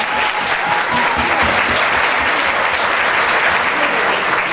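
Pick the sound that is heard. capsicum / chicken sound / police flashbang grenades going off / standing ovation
standing ovation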